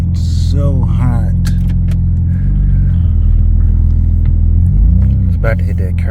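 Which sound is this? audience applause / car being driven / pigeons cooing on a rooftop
car being driven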